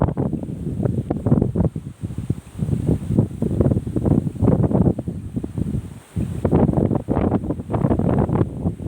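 Gusty wind buffets the microphone in strong, uneven bursts among rice fields in Isan, Thailand, rumbling and roaring continuously with brief lulls.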